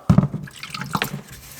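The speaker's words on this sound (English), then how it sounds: "Get a little water on there, clean the stone up." Water splashing and dripping onto a knife-sharpening stone, a quick burst of liquid at the start followed by light trickling, close and fairly loud with no talk.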